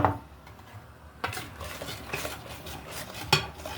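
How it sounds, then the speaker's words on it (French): A spoon scrapes and clinks against a bowl while cake batter is mixed with flour and baking powder, several gentle irregular strokes up close with no talk. "D'abord, on met la levure chimique. Et ensuite, on met la farine. On mélange."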